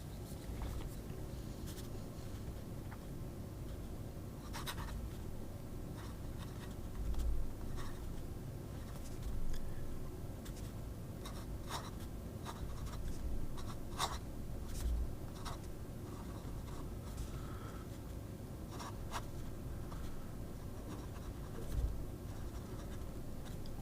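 A Scribo Flow Armonia flexible fine-nib fountain pen writes on paper, a soft, close, continuous scratching with faint irregular strokes and small taps as the nib lifts and lands, no talking.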